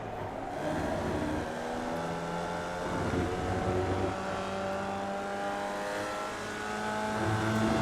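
Formula Vee race car engine in the iRacing video game at Virginia International Raceway, droning steadily with harmonic whine, dipping briefly on a small throttle lift around the middle before pulling back up to full power.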